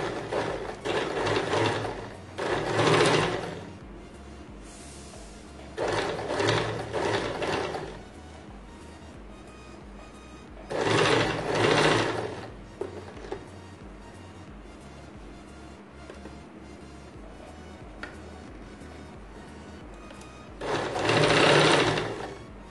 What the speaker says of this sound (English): Start stitching, giving equal amount of seaming margin all around.